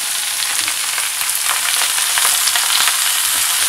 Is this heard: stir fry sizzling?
yes